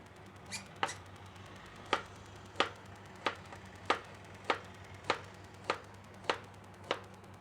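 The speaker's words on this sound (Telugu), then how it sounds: "ఇప్పుడు కుకుంబర్ కూడా కట్ చేసుకుందాము" A knife slices cucumber on a cutting board in a steady rhythm, about a dozen sharp, close chops spaced roughly half a second apart, over a faint low hum.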